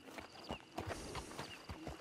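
Horse hooves clip-clop at a steady walking pace in Red Dead Redemption 2, a regular series of muffled hoofbeats over a faint ambient background, quiet and fairly close.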